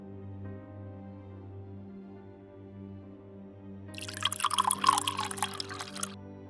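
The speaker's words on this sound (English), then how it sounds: "I poured some vodka into the glass." Vodka pours into a glass in the game Shadows on the Vatican, a short trickling splash of liquid lasting about two seconds over a quiet background hum.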